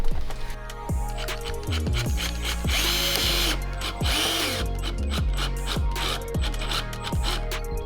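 A power drill drives screws into the underside of a Corvette C8 side skirt during installation. It gives repeated short whirring bursts with a ratcheting clatter, loud and close, and no talk is heard.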